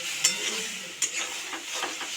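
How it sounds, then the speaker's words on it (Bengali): Masala fries in a pan as water goes in, a close hiss and sizzle with two sharp utensil clinks against the pan, short and without talk. "তাই হালকা জল দিয়ে দিলাম যাতে মশলাটা তলায় লেগে না যায়"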